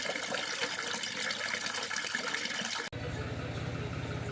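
Cold mountain spring water pouring steadily from a village fountain in Turkey, a loud continuous splashing gush that runs throughout and shifts to a deeper, closer tone near the end.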